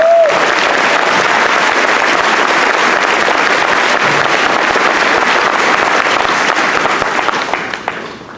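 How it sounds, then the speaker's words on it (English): A crowd gives loud, sustained applause for students and instructors at a ceremony, a dense, even roar of clapping that holds for several seconds before tapering off at the end. "applause, please, for our talented students and instructors"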